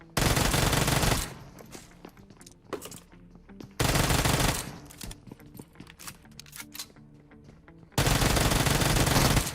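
Automatic gunfire in the PUBG Mobile video game, with long loud sustained bursts at the start, middle and end and scattered single shots and clatter between them.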